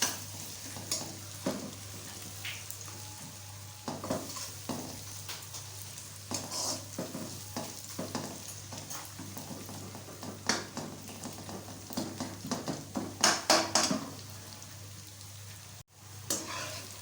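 Garlic, ginger and onion fry in a pan for aloo anday tikki, a steady crackling sizzle with repeated scraping stirs over a constant low hum, no voices.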